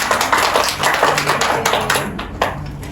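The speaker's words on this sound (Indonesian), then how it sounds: "Tepuk tangan untuk Anida." A classroom of students applauds a classmate with brisk, fairly close clapping that stays steady and tapers slightly toward the end.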